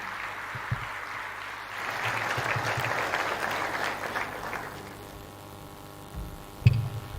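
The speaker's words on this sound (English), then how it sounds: "One more round of applause for Madam Chair." A crowd at a Diwali celebration at State House in Nairobi applauds, a sustained wash of clapping that swells, then fades, followed by a brief thump near the end.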